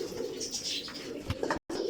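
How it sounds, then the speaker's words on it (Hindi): Fancy Chaudhry Safi breed pigeons coo in a low steady murmur close by, one continuous soft cooing with a brief silent gap near the end. "ये माशाल्लाह ये चौधरी सफ़ी वाला कबूतर है"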